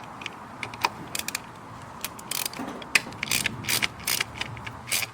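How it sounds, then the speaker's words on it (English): A ratchet wrench with a T30 socket unbolts the coil packs on a Mercedes M113 V8 during a valve cover gasket job, giving bursts of rapid clicking between metal clinks and pauses, fairly close, with no talking. "To remove the coil packs, you're going to need a T30 socket."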